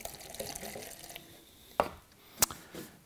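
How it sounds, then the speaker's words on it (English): Mineral spirits are poured into a container for cleaning pinstriping brushes, with soft trickling liquid sounds and a couple of sharp clinks and knocks of the container close by. "I'm gonna pour some mineral spirits into this"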